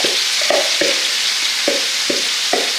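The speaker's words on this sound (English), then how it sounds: "I'm going to add my carrots, onions, and celery, my mirepoix mix, and this does have my sage in with it." Carrots, onions and celery mirepoix with sage sauté in a hot pan. A bright, close sizzle runs throughout, with about half a dozen rhythmic scraping strokes of a utensil stirring the vegetables.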